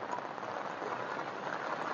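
Heavy rain pours in a dense, even hiss, falling steadily onto surfaces nearby with no voices or other sounds breaking through.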